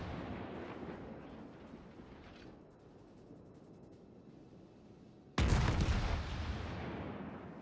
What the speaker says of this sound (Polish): Kolejne strzały.